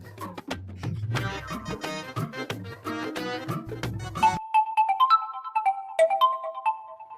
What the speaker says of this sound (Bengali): আরে ইমার যে ফোন